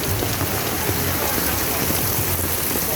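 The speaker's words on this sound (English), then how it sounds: "Rain started too long ago." Heavy rain pours steadily onto a street in Jamaica, a dense, even hiss of drops on pavement with no break, loud and enveloping.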